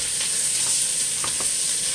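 Ground meat browning in a hot pan for Tex-Mex enchiladas, a close, steady sizzle with faint stirring scrapes and no voices.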